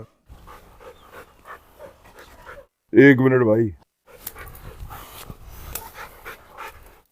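An excited Rottweiler named Alex pants rapidly up close and lets out a whine, while someone speaks Hindi around it.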